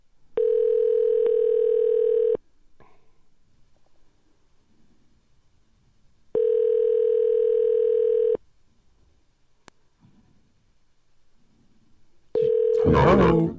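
Ringback tone on a phone call to a store, three long steady electronic tones about two seconds each separated by quiet gaps, with brief background voices near the end.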